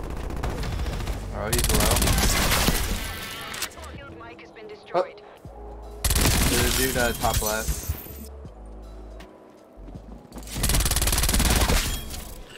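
Rapid gunfire bursts in a shooter video game come in three loud stretches, with quieter gaps between them, while a player talks over the action.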